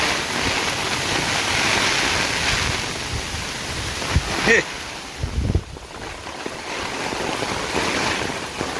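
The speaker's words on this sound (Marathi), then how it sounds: "बघा वारा बघा एवढा जोरात आहे" Strong wind during a heavy rainstorm in rural Konkan farmland roars steadily with broadband rushing and buffeting, a faint voice briefly in the middle.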